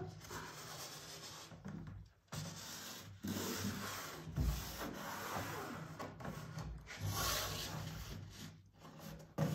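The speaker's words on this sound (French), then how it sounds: "Je marque juste le pli avec l'ongle." A fingernail rubs along a fabric fold beside a ruler while a tote bag is sewn, giving soft, close, repeated scraping strokes separated by brief pauses.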